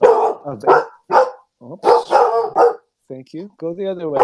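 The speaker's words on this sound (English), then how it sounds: "That is my dog announcing my wife's arrival." A dog barks several times in short bursts indoors, close and loud, mixed in with someone talking.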